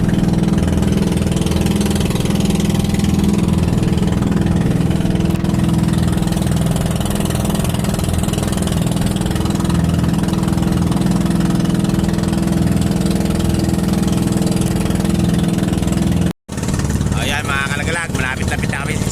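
A small fishing boat's engine chugs steadily and loudly, sputtering and cutting out for a moment, then starts running again.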